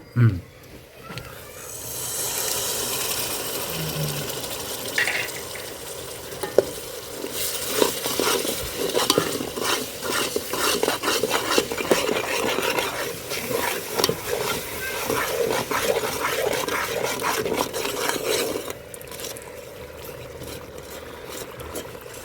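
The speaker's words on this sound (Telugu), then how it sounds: "కలుపుతూనే ఉండండి ఎందుకంటే అడుగంటది అనమాట ఇట్లా కలుపుతూనే ఉండండి" Yogurt being stirred into masala in a hot pan for khushka rice, a steady sizzling scrape with faint spoon clicks running throughout, a person talking over much of it.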